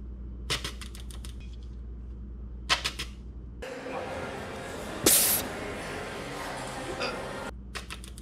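Fuel injector held by hand and pulsed while spraying under pressure on a test setup, a steady hissing burst lasting a few seconds, with sharp clicks and ticks before and after.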